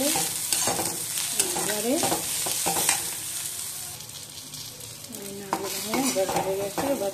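Cabbage leaves fry and sizzle in a pan with salt and turmeric while being stirred, the spatula scraping repeatedly over continuous crackling; a voice speaks briefly.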